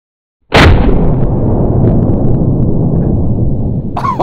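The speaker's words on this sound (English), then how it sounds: "All right, firing the RPG-7." An RPG-7 rocket launcher fires with a sudden, very loud blast after brief silence. A long rumbling roar follows and slowly fades.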